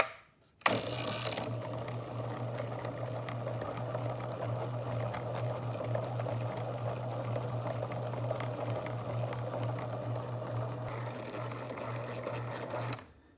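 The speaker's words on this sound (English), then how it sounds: "This will be the last and final round of polishing for this stone." A sphere machine grinds and polishes a rose quartzite sphere with 3000 grit, giving a steady whirring hum with a low drone and faint gritty scraping that runs evenly and unbroken from start to finish.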